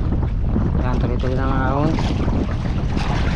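A small motor boat pushes upstream against the current, its engine drone blending with heavy wind buffeting and water rush; someone speaks over the steady noise.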